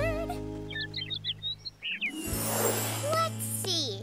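A little bird in a children's cartoon chirps in a quick series of high, bright tweets, fairly close and clear, followed by swelling music and tones.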